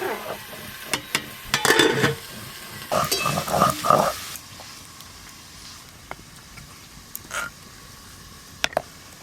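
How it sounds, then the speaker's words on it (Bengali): Khichuri being stirred in a pot, with close, loud scraping and clattering of a spoon against the vessel in two bursts over a low sizzle, followed by quieter simmering with a few faint clinks. "এদিকে চাপা খুলে একবার খিচুড়িটা ভালো করে নেড়ে দেব"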